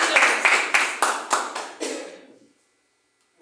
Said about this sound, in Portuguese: Dá uma salva de palmas para Jesus Cristo